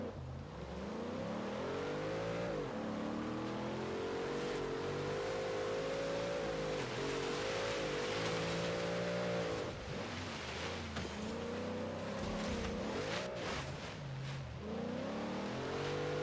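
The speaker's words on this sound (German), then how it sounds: "Mal schauen, ob wir da überhaupt hochkommen mit dem Wagen." Car engine climbing a snowy mountain road in Forza Horizon 3, Blizzard Mountain, a loud sustained engine drone that rises and falls in pitch as it revs and shifts, heard alone throughout.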